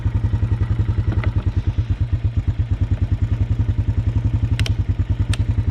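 A rebuilt Honda TRX250TE ATV engine idles close by with a rapid, even putter, and a few sharp clicks and rattles sound over the steady firing.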